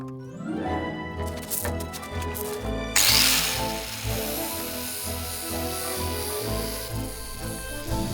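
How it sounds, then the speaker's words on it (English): Continuous scraping rub of sanding on the metal feet of an antique bathtub in an old farmhouse, a steady close abrasive rasp that gets brighter and harsher partway through, with no voices. "This was the first time that we'd actually sanded the feet for the tub"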